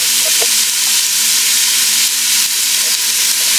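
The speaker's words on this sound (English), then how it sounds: "you want to saute that up really good until you want to let this go for about a couple of minutes" Sausage and peppers sautéing in a pot for soup, a loud, dense, continuous sizzle close up with light stirring scrapes, no voices.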